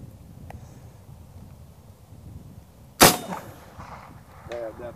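Single air rifle shot fired at a board target at long range, a sharp loud crack midway through quiet wind and rustle, followed by a faint distant knock.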